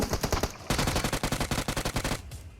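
Rapid automatic gunfire from a PUBG Mobile match, loud and close, with fast bursts of shots separated by brief pauses and no talk.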